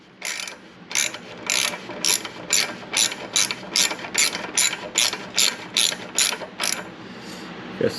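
A ratchet works a bolt on a Ducati Multistrada during an oil change, giving about a dozen quick, close, crisp clicking strokes in steady rhythm, with no talk.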